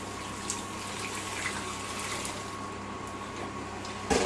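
Liquid poured into a hot slow cooker while making coq au vin, a steady gushing, splashing flow lasting several seconds at moderate level and close by, ending with a brief clatter.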